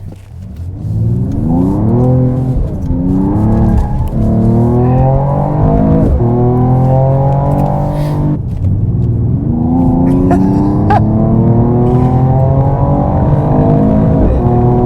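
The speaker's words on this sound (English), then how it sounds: "So this engine absolutely pulls" A 2022 Mercedes-AMG E53 engine revs hard and climbs through the gears, its pitch rising and dropping with each shift, loud and close with no talk.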